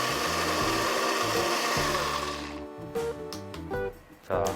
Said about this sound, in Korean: 블렌더의 힘은 어마어마합니다